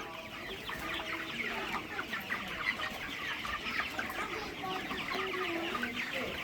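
Many chickens cluck and chatter steadily on a raised-floor poultry farm, a dense, continuous flock sound at moderate distance with no talk.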